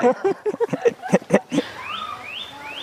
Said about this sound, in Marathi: वर पक्ष्यांचे सुंदर सुंदर आवाज येत आहेत